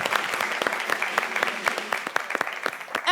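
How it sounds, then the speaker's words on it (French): Families in the audience of a televised Christmas family show clap loudly, a brisk run of sharp, overlapping claps from a nearby crowd with a faint murmur beneath. "Vous pouvez encore vous applaudir bien fort."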